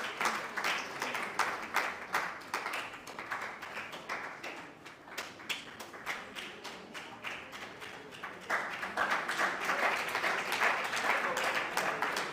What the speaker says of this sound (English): Let's continue to clap for them.